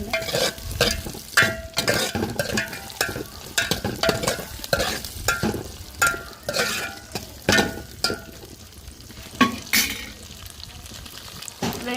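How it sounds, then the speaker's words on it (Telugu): Dried fish frying in oil in a pan, along with onion, green chilli and tomato, giving a busy close sizzle broken by frequent clattering stirs and scrapes that keep a loose, uneven rhythm. "చేపలు అనేది ఆయిల్లో బాగా ఫ్రై చేసేసుకొని ఇందులోనే కలిపి వేసేసుకున్నాం"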